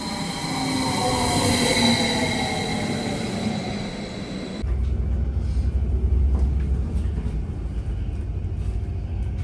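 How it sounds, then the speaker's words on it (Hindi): An S1 train rumbles loudly into Luzern station, a steady low roar with a sustained high whine that cuts off abruptly partway through, leaving a dense continuing rumble. "बट ट्रेन पहले दिख जाती है कि आ रही है।"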